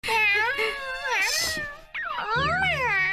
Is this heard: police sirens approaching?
no